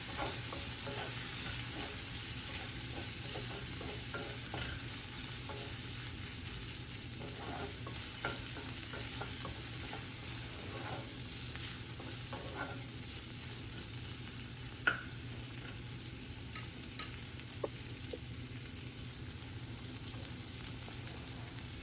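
Chopped onion fries in a pan with a steady broadband sizzle, and a spoon scrapes and stirs through it in irregular clicks, close and fairly quiet throughout, with no one speaking.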